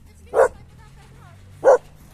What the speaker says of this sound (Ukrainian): вона гавкає на нас